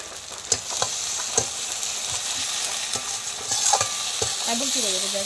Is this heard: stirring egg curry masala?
yes